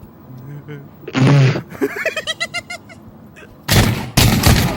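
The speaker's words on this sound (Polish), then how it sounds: "Nie wiem skąd padły strzały" Sharp bursts of gunfire in the VR shooter Pavlov VR crack out in a couple of loud volleys, with a person talking and laughing briefly between the shots.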